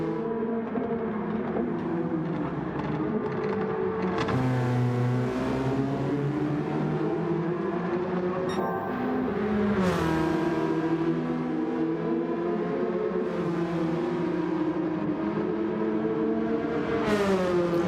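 Race cars lapping the Nürburgring GP circuit during practice before race one, engines droning steadily with rising and falling pitch as cars accelerate, shift and pass, several sharper pass-bys cutting through the continuous loud roar.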